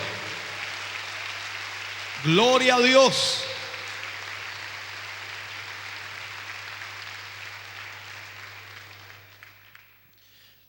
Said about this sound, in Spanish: Ese aplauso de alabanza para el Señor